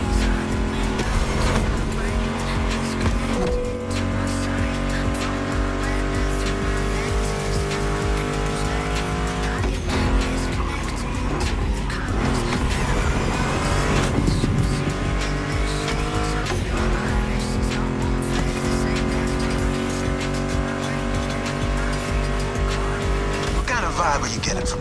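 A Ford Mustang GT muscle car races in The Crew Motorfest, its engine roaring through repeated upshifts and revs with tire squeal, mixed under music riffs and a talking voice throughout.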